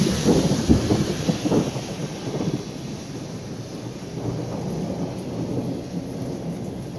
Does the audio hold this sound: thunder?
yes